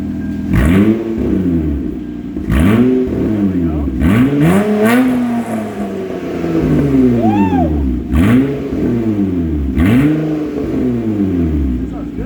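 A daily-driven car with a DIY cat delete and straight-pipe exhaust revs hard several times in a row, each rise and fall loud and close, with a rasping, throaty tone between the bursts.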